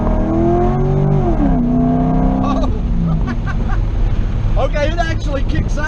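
A car engine with an HD2 shift kit and servo revs up and shifts gears, its loud tone climbing then dropping sharply at a crisp upshift, followed by a rougher rumble and renewed revving, with people talking over it.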